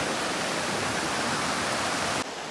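River water flowing, a steady broadband rush of moving water, loud and close, continuing without a break.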